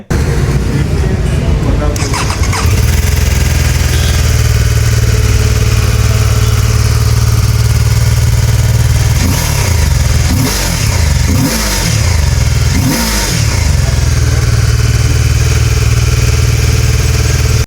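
A BMW F450 GS adventure motorcycle exhaust idles with a deep, loud rumble, then gets several sharp revs in quick succession.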